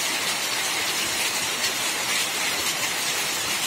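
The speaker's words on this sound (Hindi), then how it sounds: "काफ़ी ज़्यादा आपको आवाज़ सुनाई दे रहा होगा बारिश का।" Heavy rain pours down in a dense, continuous hiss, steady and loud throughout without pauses.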